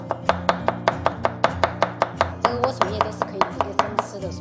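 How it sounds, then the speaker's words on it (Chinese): A knife shreds a celtuce stem on a cutting board in quick, even, crisp chops, about four or five strikes per second, close and loud. "然后改刀给它切成丝。"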